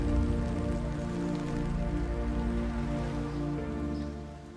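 Steady rain falls throughout, a dense wash of drops pattering on a hard surface, even and continuous with no voices.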